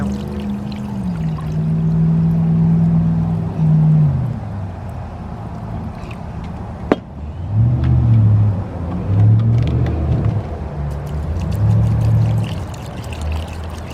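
Rice rinsing water poured over fish for Lao steamed fish, a continuous splashing pour with gurgling swells and a brief sharp clink midway, close and loud.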